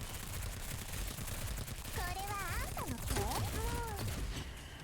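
Gunfire in the video game Girls' Frontline: dense continuous rapid shots throughout, loud and busy, with whooping synthetic tones and effects layered over the middle.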